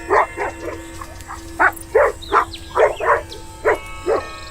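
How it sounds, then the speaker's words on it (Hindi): A fierce cartoon wolf in a Hindi horror story for kids snarls in a rapid series of about a dozen short, loud, rough bark-like bursts, evenly spaced and close up. "तभी भेड़िया उसे देखकर गुर्राने लगता है।"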